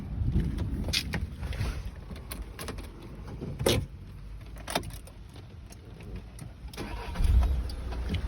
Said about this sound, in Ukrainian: Давайте ще заведемо, послухаємо,